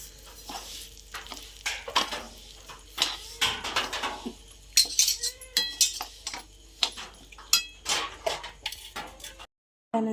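Coarse semolina roasting and being stirred in hot ghee in a pan, with a spoon scraping and clinking against the metal in irregular strokes over a faint sizzle, close up and without talk.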